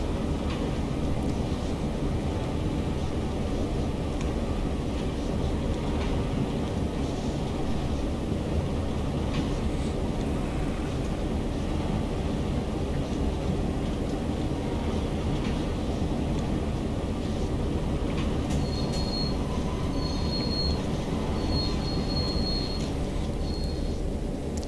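A locomotive in the Train Sim World game rolls along the rails with a constant low rumble and steady droning, and faint repeated tonal beeps sound near the end.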